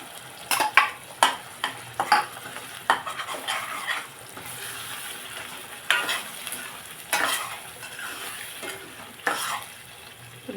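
A paste of spinach, tomato, onion and cashew goes into a pan of potato and egg curry and is stirred, making repeated sharp utensil scrapes and clacks over a soft background sizzle. No one speaks.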